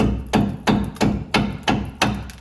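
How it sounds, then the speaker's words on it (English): A rubber mallet strikes a seized jam nut on a 2005-2012 Chevrolet Colorado/GMC Canyon tie rod in an even series of seven dull, close thuds at roughly steady intervals. "friendly taps with the rubber mallet to loosen up that jam nut"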